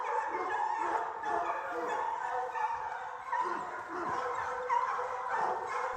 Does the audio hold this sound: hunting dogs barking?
yes